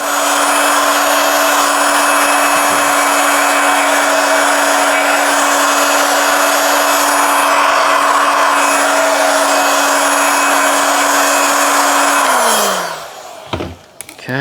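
A hot air tool blasts steadily while heating upholstery fabric on a dining chair seat cushion, a loud continuous whooshing drone with a fixed hum that runs for about twelve seconds, then winds down and cuts off near the end.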